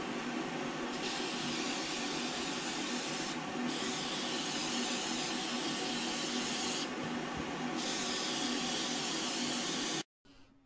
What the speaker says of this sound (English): It's clear shellac, and by spraying that onto that brown paper, that will seal that up.